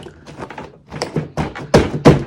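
A small container being sealed inside a larger container for homemade ice cream: a series of close plastic clicks and taps that build to two louder thunks as the lid is pressed shut, with no talking.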